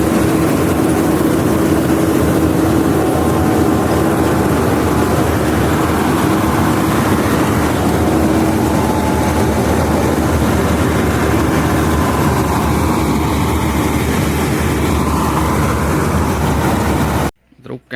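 A tractor engine runs steadily while pulling a trolley, a loud continuous low rumble with a constant drone throughout, cutting off abruptly near the end.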